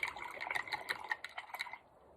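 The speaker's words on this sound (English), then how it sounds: "putting that paintbrush back in our water." A paintbrush swished and rinsed in a water cup: a quick series of close, light splashing and dripping sounds for under two seconds, then quiet, with no talk.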